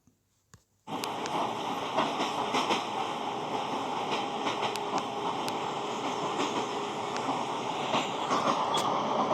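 A train rolls along the rails with a steady, loud rumble and faint clickety-clack, starting abruptly after a brief quiet moment and continuing without a break.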